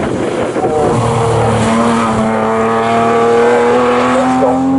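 Historic pre-1963 race cars battling side by side at Snetterton, engines roaring loudly and close with rising, sustained revs as they run toward the braking area, a dense mechanical drone filling the whole clip.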